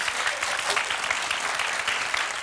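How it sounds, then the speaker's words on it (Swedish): A studio audience at a Swedish BingoLotto television show gives a sustained round of applause, a dense steady wash of clapping that stays even and fairly loud for the whole stretch. "Vi ger dem en extra applåd."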